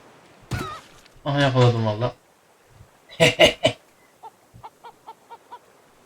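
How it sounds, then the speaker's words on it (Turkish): Chicken in the Raft video game clucks in a short burst, then a string of quick soft clucks tapering off, with a voice talking loudly beforehand and laughing tones nearby. "Tavuğumuz da var artık."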